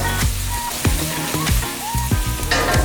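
Onions softening in an already hot pan while cooking carnitas, a loud, steady close sizzle with a few sharp pops and crackles scattered through it.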